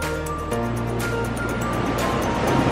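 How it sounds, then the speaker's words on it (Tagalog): Sea waves crash against large rocks at a beach in Cabongaoan, Burgos, Pangasinan, a steady loud roaring wash of surf with engine-like hum underneath, no talking. "Bastang alon."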